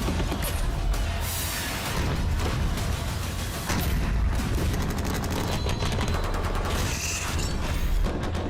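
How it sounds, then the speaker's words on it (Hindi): Dense, continuous artillery and gunfire from a firepower exercise at Pokhran, Rajasthan, a loud sustained barrage of overlapping blasts and rattling bursts with no pauses. "Rajasthan, fire power exercise."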